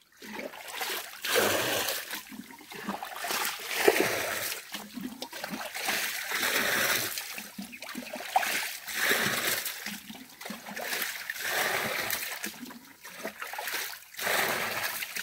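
Water splashes and sloshes steadily near the mic outdoors at a fishing spot, a continuous rushing wash with repeated surges and no clear pauses.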